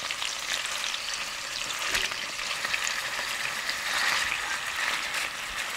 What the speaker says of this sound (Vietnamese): Cho vào chảo 2 muỗng canh dầu, mở lửa nhỏ, cho thịt vào ngay để không bị văng dầu.